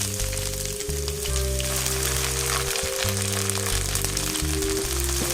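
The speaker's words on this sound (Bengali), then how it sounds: "আদা ও রসুনের পেস্টটা আমি পেঁয়াজের সাথে সামান্য একটু ভেজে নেব" Ginger garlic paste fries in a pan of browned onions for a malai kofta curry, giving a steady, loud crackling sizzle throughout with a low hum beneath and no voices.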